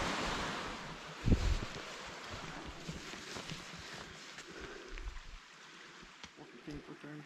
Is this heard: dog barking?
no